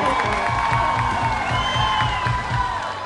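Concert crowd of fans at Busch Gardens, Florida cheering and applauding in a sustained roar, with whoops and shouts over steady clapping and background music, loud and continuous.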